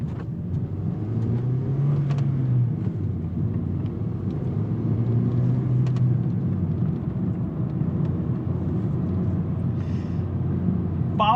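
A 2009 Honda Civic 1.8 sedan drives along, heard from inside the cabin as a steady low engine drone and road rumble, continuous and even throughout.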